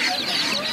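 Tiger chickens cluck among other poultry at a busy livestock market, a brief burst of clucking set against the crowd's steady background din.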